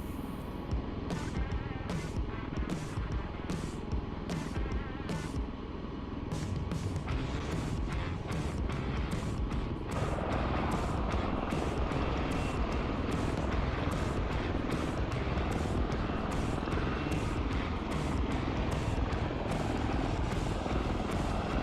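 A V-22 Osprey tiltrotor flying low in Microsoft Flight Simulator, its rotor and engine roar steady and loud throughout with rapid rhythmic blade chop, shifting in tone partway through, no talk.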